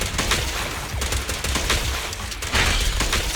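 Rapid gunfire crackles continuously in a Zenless Zone Zero battle, a dense, loud fusillade of overlapping shots with no pauses across the short stretch.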